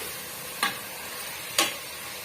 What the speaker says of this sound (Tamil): ஒரு த்ரீ மினிட்ஸ்க்கு இதுலேயே வந்து நம்ம கிண்டி விட்டுக்கலாம்